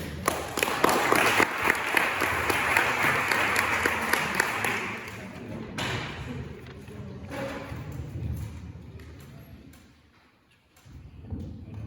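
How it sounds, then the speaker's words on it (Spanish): Audience at an outdoor evening event in Nalda applauds steadily for several seconds, then the clapping fades into quieter room sounds and a few thumps. "un aplauso para él también"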